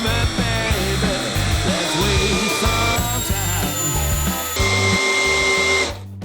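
A DA 20/13UBL cordless drill driver on its maximum 20th clutch setting drives a 200 mm screw, whining loudly and steadily with rising and falling pitch, then cuts off near the end.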